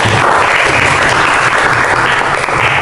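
A classroom full of students claps steadily and loudly throughout, a dense, continuous wash of applause.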